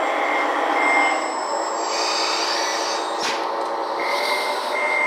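A forklift drives around a busy industrial pipe yard, its steady reversing beeps repeating over a constant engine drone and clatter, close and fairly loud, with no talk.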